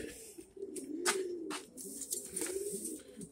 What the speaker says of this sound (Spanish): La paloma vuela y todo aquí